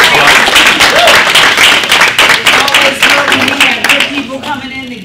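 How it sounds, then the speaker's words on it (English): A business-talk audience applauds Frank Robinson with a dense, loud wash of clapping that runs the full length and tapers slightly near the end, with a voice faintly present beneath. "Let's give Frank a round of applause"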